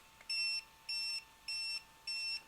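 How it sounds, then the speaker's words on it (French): An ARRMA Typhon 2-3s v4 RC car controller gives four short, identical electronic beeps, evenly spaced and clear, over a faint steady hum. "Il a fait 4 bips, il est sur le réglage maximum."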